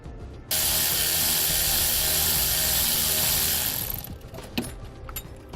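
A bolt being tightened near the brake pedal of a 2016 Jeep during a flat-tow brake system install, heard as a loud continuous ratchet run for several seconds, then a few faint clicks and handling noises.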